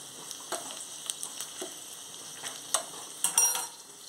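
Mustard seeds and other tempering spices with a little chilli powder and onion crackle and spit in hot oil, with scattered sharp pops and a soft sizzle, close and fairly quiet.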